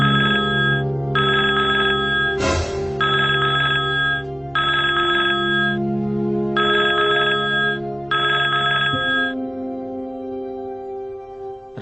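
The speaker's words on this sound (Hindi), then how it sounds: "नागपुर में चारों ओर फोन की घंटियां बज उठी।" Telephone bells ring loudly in repeated electronic bursts with brief gaps between them, a steady insistent pattern carrying alone without any talking.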